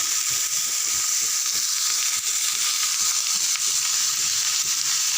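Steady, loud sizzling of bottle gourd sautéing in a hot pan, a continuous hiss with faint stirring clicks, no voices.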